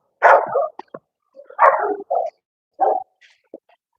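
A small pup barks several times in short, high yips and bow-wows with brief gaps between, close and fairly loud, with faint whimpering sounds in between.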